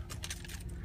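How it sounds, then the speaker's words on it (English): Keys for a 2014 Ram 2500 truck jangling briefly in a quick metallic burst of chiming clinks, close up with no talking. "Also comes with two keys, remote started built in."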